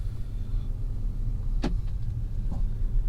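An all-wheel-drive V8 car idles while warming up, a low steady rumble close by with a couple of brief sharp clicks on top.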